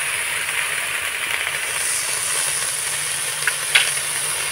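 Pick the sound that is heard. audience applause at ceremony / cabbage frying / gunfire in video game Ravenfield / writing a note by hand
cabbage frying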